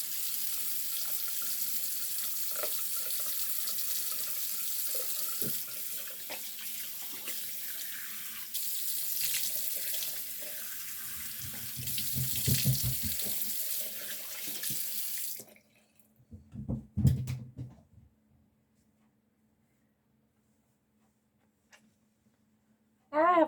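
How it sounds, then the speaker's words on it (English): Bathroom sink tap running steadily while a face is washed, a close, continuous splashing hiss for about fifteen seconds with louder splashes near the end, then stopping to near silence. "I'm going to wash my face again"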